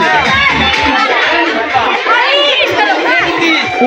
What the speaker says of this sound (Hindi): पूरा भीड़ खचाखच भरा हुआ है